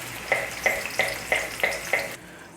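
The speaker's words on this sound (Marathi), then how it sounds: "त्या भांड्यात थोडंसं पाणी टाकून ते सगळं काढून घ्यायचं" Water is swished around a cooking vessel to rinse out leftover paste for an egg dish, making about six evenly spaced splashy sloshes close by before stopping.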